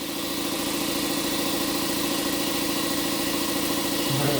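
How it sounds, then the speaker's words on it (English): A small 1K air compressor runs steadily with a dense, even motor drone and a rapid pulsing chug, close and loud throughout with no talking. "Air compressor finally kicked on. It's a little 1K compressor"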